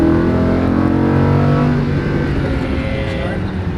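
A Lamborghini Huracan on a racing track accelerates hard on throttle, its engine note loud and close, rising and droning steadily throughout with voices faintly under it.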